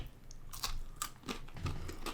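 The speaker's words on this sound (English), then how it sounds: "Ooh, that crunch." A Take 5 candy bar with chocolate, caramel, peanut butter, peanuts and pretzel is bitten and chewed up close, giving about five distinct crunchy snaps spread over a couple of seconds, with no talk.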